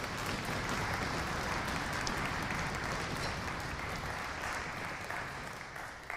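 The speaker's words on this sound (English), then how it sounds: "How about a round of applause for them, please?" An audience at a single reed symposium concert applauds, a dense, even patter of many hands clapping that continues steadily and fades slightly at the end, heard from a distance.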